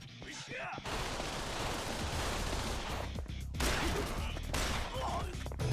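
Rapid gunfire echoes through a hallway in the video game Yakuza Kiwami 2, a dense sustained rattle of shots with brief gaps, fairly quiet overall.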